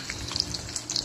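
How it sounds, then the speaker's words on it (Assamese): Fish pieces frying in hot oil for an Assamese fish curry with potato and tomato, giving a soft, close sizzle with scattered crackles and no talk. "মাছখিনি ভাজা হৈ গৈছে এইখিনি উলিয়াই ল'ব লাগিব আৰু এইখিনি পিছত ভাজিম"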